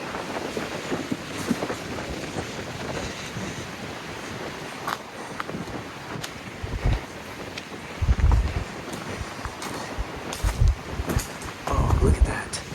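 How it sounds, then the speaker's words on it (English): Gusting wind buffets the microphone inside a Texas slot canyon, a steady rushing roar with heavier low thumps and bursts toward the end, with no talk. "Man, this wind is making me..."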